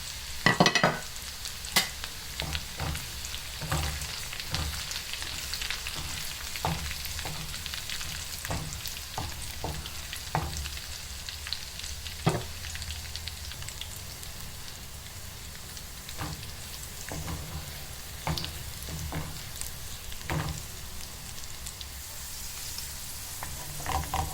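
Steady crackling sizzle of hot oil with garlic, whole chillies and cumin poured over kadhi pakora, with scattered sharp pops and spits throughout, close and continuous, no talking.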